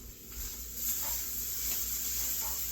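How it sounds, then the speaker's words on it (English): Beef stir-fry sizzling in a pan as it gets stirred, a steady quiet hiss with faint scraping and occasional soft clinks, no talking. "I'm going to give this a stir."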